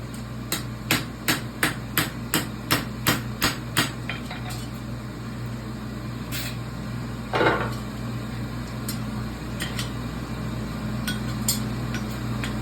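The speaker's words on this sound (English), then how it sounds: "Go ahead and gently flatten her down." A hammer flattens a hot horseshoe at a forge. About nine quick, evenly spaced ringing blows come first, then a few scattered strikes and clinks over a steady background hum.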